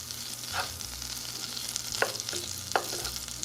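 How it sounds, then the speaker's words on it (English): Oil and butter heating in a cooking pot, a soft low sizzle with a few faint clinks and taps, quiet and close, no voices. "To your pot, you're gonna put a little bit of oil, a"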